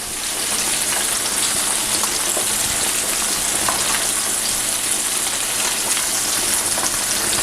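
Bone fish and potatoes fry in hot oil with a steady, dense crackling sizzle that holds at an even, fairly loud level throughout, close up and with no talking.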